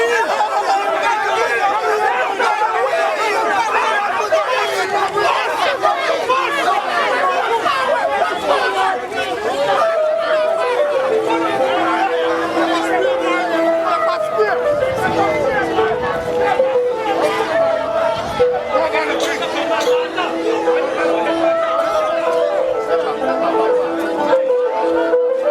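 Crowd of protesters pushing against police, a dense, loud babble of many voices and shouts continuing throughout, with occasional barking-like yells over the din.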